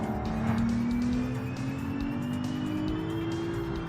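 A fast supercar built in a car-building video game drives hard through corners, its engine holding a steady high whine that rises in pitch while tires hiss and squeal over a constant droning roar.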